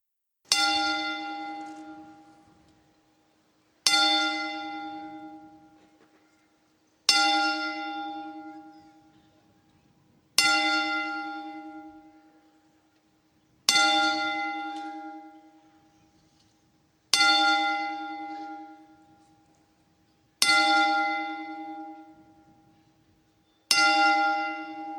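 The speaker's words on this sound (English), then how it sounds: "Please join me in a 10-bell salute to the" A bell tolls slowly eight times at even intervals as part of a ten-bell salute. Each clear metallic strike rings out and then decays into silence, with no talk.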